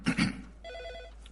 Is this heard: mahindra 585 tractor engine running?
no